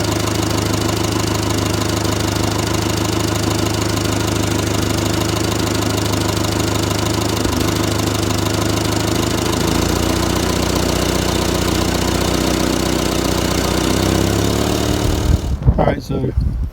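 A Farmall BN tractor engine runs steadily at close range for most of the span, a continuous mechanical drone that cuts off near the end.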